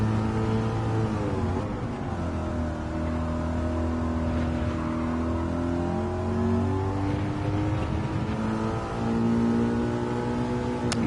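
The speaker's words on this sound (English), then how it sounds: "Come on, 5-litre V8 under this hood." A 5-litre V8 muscle car engine at Laguna Seca, revving steadily with rising and falling pitch, heard at moderate level on its own without talk.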